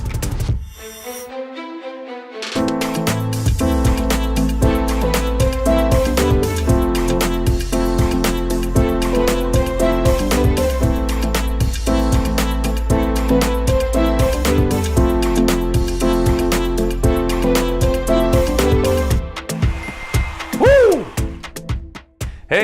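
Piano plays the chorus of a song in an intermediate-level arrangement, full and steady with a driving low bass pattern and chords, then trailing off into a few fading notes.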